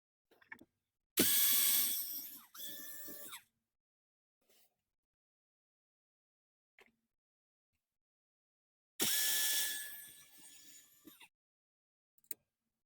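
A power screwdriver drives out T15 Torx screws from the glove box of a 2014–2018 Chevrolet Silverado / GMC Sierra truck, with two close whirring bursts several seconds apart and small clicks between.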